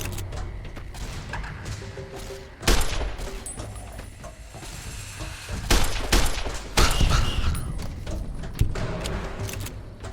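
Gunfire in Fallout: New Vegas during a fight with rats, sharp bursts and thuds over a steady low game rumble, with several louder shots clustered in the middle and later stretches.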